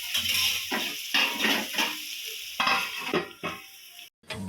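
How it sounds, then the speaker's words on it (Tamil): Tomatoes are sautéed in a pan for chicken curry: an uneven sizzle sounds close by, broken by bursts of stirring and scraping and a few light utensil knocks, with a brief silent gap near the end. "இதை நல்லா வதக்கி வச்சுருங்க. நல்லா வதக்குங்க. தக்காளி கொஞ்சம் நல்லா வதங்கட்டும்"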